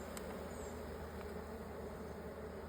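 Robbing honey bees swarm around a hive, a steady dense buzz that holds alone and unbroken throughout, with no voices.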